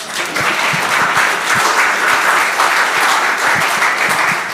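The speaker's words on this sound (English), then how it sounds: "So where's the round of applause?" A room of attendees at a Washington, D.C. media-bias debate gives a round of applause, sustained, even clapping from many hands at close range, steady from start to finish with no speech.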